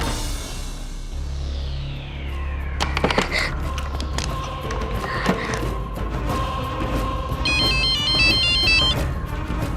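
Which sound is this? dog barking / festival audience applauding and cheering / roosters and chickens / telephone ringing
telephone ringing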